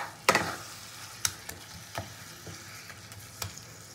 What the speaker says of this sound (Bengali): তো ভালো করে জ্বালিয়ে পুরটাকে রেডি করে নেবো এবার